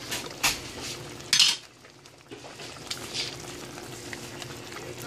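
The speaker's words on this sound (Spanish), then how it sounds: "Voy a ponerle la salsa." Sauce goes into a pot of pork chops and eggplant, with a few sharp clinks of a utensil against the pot, a brief pouring splash, then a quiet simmering bubble.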